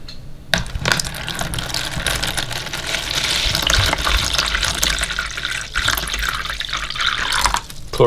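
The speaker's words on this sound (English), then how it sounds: "Pour a cold one." A cold beverage being poured into a container, a loud, steady splashing and trickling stream of liquid that continues for several seconds, close up with no talking.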